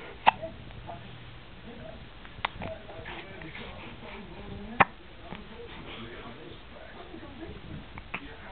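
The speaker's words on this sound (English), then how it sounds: "Oh, you not got hiccups again." A person hiccups a few times, sharp isolated catches spaced several seconds apart, heard close in a quiet room over faint background noise.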